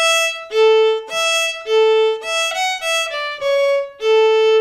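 A fiddle plays the short lively opening phrase of an Irish traditional tune, clear bowed notes moving quickly between pitches with crisp attacks, close and bright with no talking.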